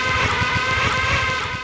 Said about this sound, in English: that's the backwards effect with the reverb coming first before the hit